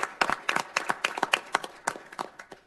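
A small council meeting audience claps for a speaker, a few scattered hands striking sharp, separate claps in an uneven rhythm that thins out toward the end.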